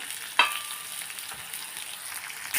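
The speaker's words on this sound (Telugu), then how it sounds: "నేను బాగా వేగేంత వరకు కలుపుకోవాలి" Thinly sliced onions fry in a pan for potato kurma, a continuous close hiss of sizzling oil broken by a sharp utensil knock near the start and another just before the end.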